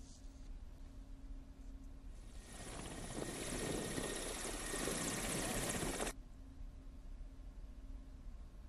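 A helicopter carrying polling staff back from a remote district in Jharkhand roars loudly for several seconds with a steady rotor and engine drone, then cuts off abruptly.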